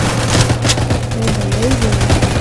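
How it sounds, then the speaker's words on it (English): A quadruple minigun in a tower defense video game fires in a rapid, continuous stream of loud, close gunfire pulses throughout the short burst. "I got the quadruple freaking minigun thing."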